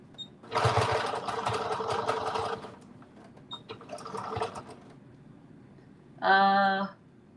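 A sewing machine stitching in bursts: a long steady run, a pause, then a shorter run, followed by a brief high electronic beep-like tone at the end.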